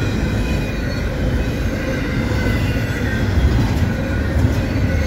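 CSX 1776 freight locomotive and its train rolling past in Lowellville, Ohio: a steady, loud, close rumble of wheels and cars with continuous low roar and faint rail squeal throughout.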